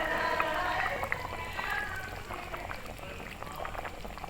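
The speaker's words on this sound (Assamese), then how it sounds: "আমাৰ আঞ্জাখন উতলি আছে আৰু প্ৰায় হ'ব হৈছে" A fish curry with white gourd and pumpkin seeds simmers in a pan, giving a continuous soft bubbling and gentle popping at low volume, steady with no one speaking.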